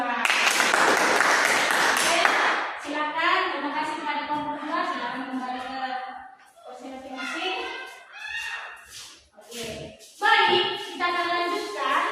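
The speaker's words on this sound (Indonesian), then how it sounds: "Tepuk tangan untuk kelompok 2" A burst of applause from a class group in a Catholic religious education lesson fills the first couple of seconds, then gives way to people talking.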